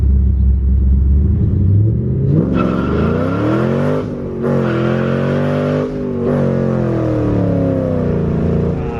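Cammed Ford Mustang GT launching with its tires spinning and no traction, a loud, close, rumbling engine that revs up through rising and falling tones, with tire noise throughout.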